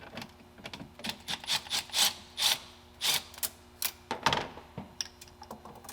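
Loosening a 5/16 screw-type hose clamp during a TorqStorm supercharger install, with a steady series of small rasping clicks from the turning screw, close and quiet.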